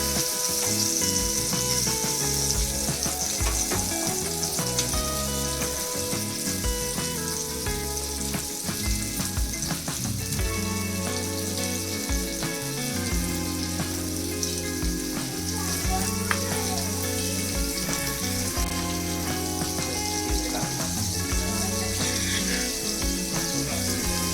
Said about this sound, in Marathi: तोपर्यंत आपण दुसरे बांगडे फ्राय करण्यासाठी तेलामध्ये सोडूया.